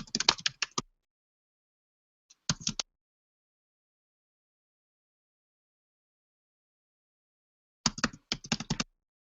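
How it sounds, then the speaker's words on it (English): Someone types an email address on a computer keyboard, the clattering keystrokes coming in three separate bursts with silent gaps between them. The sound is close and fairly quiet. "Typing in my email address."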